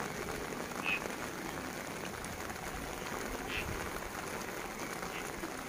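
Steady rain falling in a Javanese village, a continuous dense hiss of drops on surfaces with a couple of faint distant chirps, no voices.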